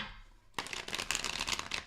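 Tarot cards shuffled by hand during a reading, a quiet pause then a dense burst of rapid riffling flutters and soft slaps, close and continuous without talk.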